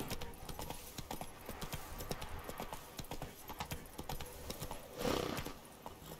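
Geralt's horse Roach gallops in The Witcher 3, its hooves pounding in a quick, steady clip-clop rhythm close by, with a brief whinny near the end.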